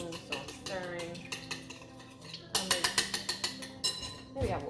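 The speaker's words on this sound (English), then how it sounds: "it says whisk to combine, but I have a spoon, so I'm stirring" A spoon stirs BBQ jackfruit sauce in a bowl, giving quick bursts of clinking and scraping against the sides, close and fairly loud, with a few slower knocks in between.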